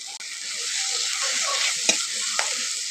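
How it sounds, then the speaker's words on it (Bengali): Spice masala for an egg paratha filling fries and is stirred in a pan, a steady close sizzle running throughout with a couple of brief scrape knocks from the spatula. "মশলাটা কিছুটা ভাজা ভাজা হয়ে গেছে"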